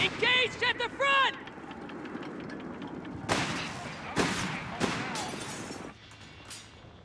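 In the video game Company of Heroes 3, a heavy machine gun team opens fire: sharp bursts of shots arrive in a few separated clusters after a short radio voice, with battlefield rumble underneath.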